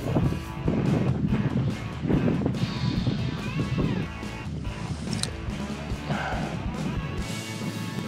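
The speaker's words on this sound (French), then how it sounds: "Il y a vraiment du vent." Strong wind buffets the microphone beside a carp fishing lake, a loud continuous rumbling roar with gusty surges and a few knocks from handling throughout.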